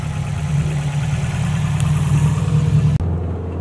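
A big-turbo Subaru STi idles with a steady low rumble that holds evenly for about three seconds, then cuts abruptly to a quieter, thinner engine drone.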